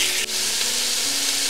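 Ground beef sizzles steadily in a hot pan, a dense, continuous frying hiss close up, with a brief soft scrape from a wooden spoon breaking up the meat.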